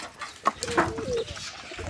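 White pigeons give soft cooing calls, a few short bursts close by over faint background noise.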